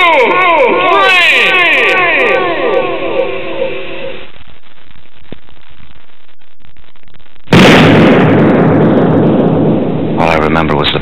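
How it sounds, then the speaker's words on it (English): In a staged pistol duel, a sharp, loud shot bursts out after a stretch of swooping tones and near-silence, followed by a second abrupt burst a few seconds later. "All I remember was the flash of the muzzle of Burr's pistol"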